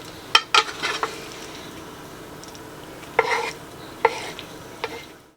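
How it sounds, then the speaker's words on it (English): Chopped pepper, tomato and onion tipped into a meatloaf mix, giving a few sharp clatters and soft scraping stirs, with scattered brief knocks against the bowl spaced across a quiet stretch. "Now we're going to add all of our pepper, tomato, and onion ingredients"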